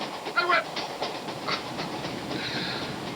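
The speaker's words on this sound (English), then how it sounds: "That's why I take the train" Train rolling on tracks in a 1984 Miller Lite beer commercial, a steady rumbling clatter with brief rhythmic clicks, moderately loud and continuous for about three seconds, with no talking.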